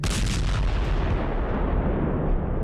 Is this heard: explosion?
yes